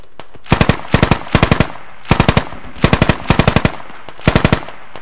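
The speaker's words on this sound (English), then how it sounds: "I'm returning fire in the direction of people shooting at you." Machine gun fire in the video game Squad crackles in loud, close bursts of three to five rapid shots each, about eight bursts in all, with only brief pauses between them.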